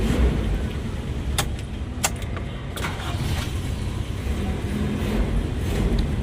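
A Toyota Revo engine cranks and fires up on a single click after a new original starter solenoid is fitted, then runs on as a steady nearby rumble with a few sharp metallic clicks and rattles over the noise.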